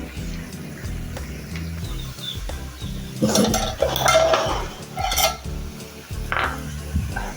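Cooked poa fish bhuna, a thick fish curry, being tipped from a pan into a serving dish, with close metallic clinks, scrapes and clatters of a utensil against cookware, in irregular bursts and no talking.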